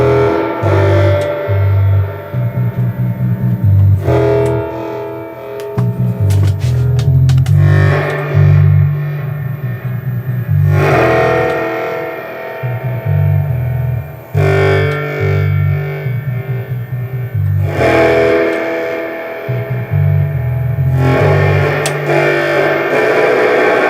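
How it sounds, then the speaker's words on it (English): Distorted electric guitar run through a simple tape delay on a pedal desk, playing loud repeated riff phrases whose echoes trail and smear between the notes, with a steady heavy low end throughout and no talking. "it's also fun to use distortion and delay together."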